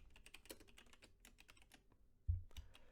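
Fingers type on a computer keyboard, a quiet, close run of irregular clicking keystrokes ending in a couple of heavier thumps, with no talking.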